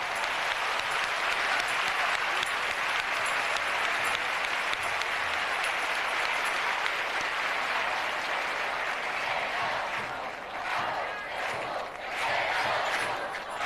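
Steady audience applause at a live podcast about hermandades and rocieros, a continuous dense wash of clapping that thins briefly near the end before surging again.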